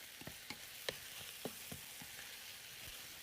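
Sauce cooking in a pan as moisture boils off, a steady close sizzle with soft bubbling pops scattered throughout, no voices.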